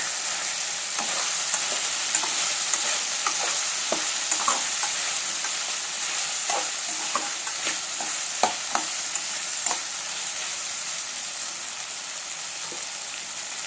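Potato, tomato and brinjal curry frying in a pan, a steady close sizzle with scattered crackles and pops and occasional stirring scrapes throughout.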